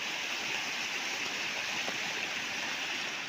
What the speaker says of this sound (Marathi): या मुसळधार पावसाचं स्वागत करतोय